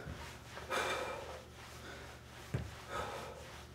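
Heavy, effortful breathing during an abs workout, with a couple of loud exhales and a sharp snort-like breath standing out over a steady low background hum.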